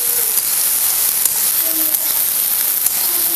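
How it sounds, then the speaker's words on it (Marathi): Finely chopped onion sautés in a pan while a mixed sprouted-legume usal is being made, giving a continuous, fairly loud hissing sizzle with a few faint clicks and no voices. "चांगलाच आपल्याला कांदा आहे ना परतून घ्यायचा, पूर्ण मऊ व्हायला पाहिजे कांदा सुद्धा."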